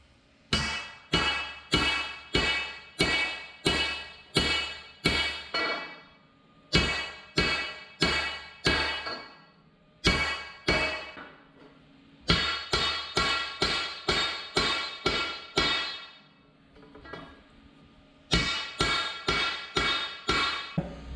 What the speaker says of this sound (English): We'll see if we can hammer these pipes flat.